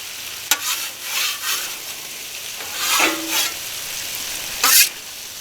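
Butter frying in a pan for garlic and parmesan red potatoes with sausage, a soft steady sizzle broken by a few sharp scraping clatters of stirring, with no talk.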